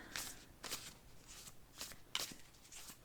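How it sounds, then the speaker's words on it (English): Tarot cards shuffled and drawn by hand, a series of soft, papery riffles and slides in short bursts about every half second, close and quiet with no talking. "Okay, so let's pull some cards for you. So I'm pulling 3 cards"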